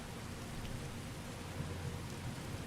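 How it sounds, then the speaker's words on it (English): Steady heavy rain in the Skyrim video game, a constant dense hiss of downpour with a low rumbling underlayer, unbroken and evenly loud throughout. "it's raining so hard that I can't even hear myself think"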